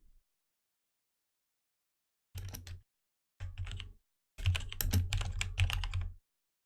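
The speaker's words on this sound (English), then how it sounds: "I do have a mechanical keyboard, but it still sounds very loud" Bursts of fast typing on a mechanical computer keyboard, close and fairly loud, in three separate runs with silent gaps, the last run longest and densest.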